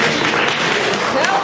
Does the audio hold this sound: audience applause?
yes